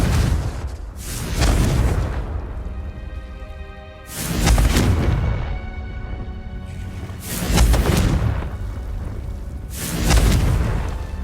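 Four heavy, booming blasts from the Confringo spell in Hogwarts Legacy on PS5 come at roughly even intervals, each a loud, broad burst that rolls on for about a second before fading.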